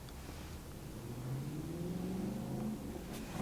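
A 2023 GMC Canyon Elevation engine cranks and catches, settling into a steady mid-pitched idle with a rising rev, heard close and alone without any talk.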